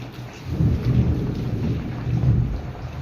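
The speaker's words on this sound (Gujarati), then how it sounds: "અચાનક વરસાદ આવી ગયો" Thunder rumbles in long low swells over steady rain during a sudden downpour at a family home, loud and continuous with no voices.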